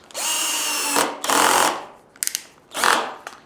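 A power drill drives a wood screw into a sewing machine stand in two long whirring bursts, then several short trigger blips and a final burst, close and fairly loud, with no talking.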